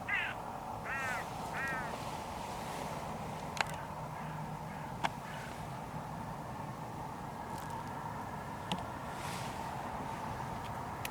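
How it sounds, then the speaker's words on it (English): Hooded crows call in a few short raspy caws near the start, heard faintly over a steady outdoor background of wind and distant traffic, with a few sharp knocks later. "2 big hooded crows just dropped in out of nowhere."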